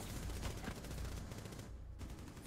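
Rapid, dense gunfire in the Rainbow Six Siege video game on Xbox, a continuous close barrage of shots that briefly drops out near the end before resuming.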